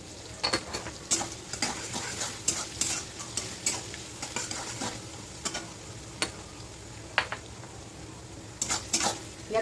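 Ingredients for biryani fry in a pan with a soft, steady sizzle while a utensil stirs them, scraping and clinking against the metal in irregular bursts, close and fairly quiet.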